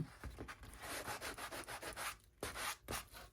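Sandpaper rubs lightly over the edges of a wooden piece to distress them, quick back-and-forth strokes in a steady rhythm, close and quiet, with a short pause before the last few passes.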